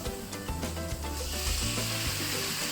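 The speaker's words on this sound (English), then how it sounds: "And now we need to add in the tomatoes as well." Tomatoes going into a hot pan for pasta sauce, with a steady, close sizzle and frying hiss and a few scraping stirs, heard alone without talk.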